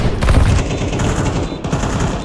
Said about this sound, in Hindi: गोली मार, गोली मार, जल्दी गोली मार